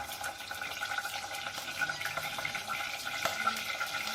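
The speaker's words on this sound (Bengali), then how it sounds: "গরম হয়ে যাওয়ার পর আমরা দিচ্ছি পেঁয়াজ বাটা" Onion paste fries in hot oil in a pan, giving a soft, fairly quiet sizzle with scattered scraping and stirring clicks, and no talk.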